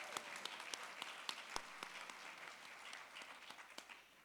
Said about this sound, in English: Let's give ourselves a round of applause for taking time for this.